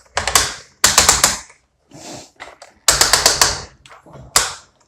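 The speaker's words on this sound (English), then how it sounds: "He does have some really clicky bicep joints here." Plastic joints of a DX9 Gabriel action figure being worked, giving loud bursts of rapid ratcheting clicks in several quick runs with short pauses between them, close and alone.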